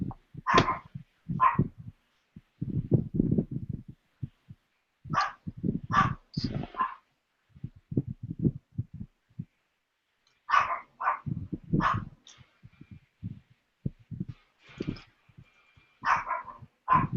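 A Shih Tzu barks indoors at home in scattered bursts of sharp yaps, fairly close and clear, spread across the stretch with lower thumping sounds in between and no talk.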